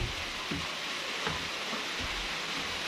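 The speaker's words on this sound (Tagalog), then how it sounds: "lumalakas na naman ang ulan" Steady rain during a rural planting day on a Philippine farm, a dense even hiss of falling water with faint scattered drops, no talking, constant and fairly loud throughout.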